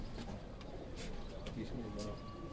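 Domestic pigeons coo softly and repeatedly at a rooftop loft of kept flying pigeons, under a steady background hum with faint voices nearby.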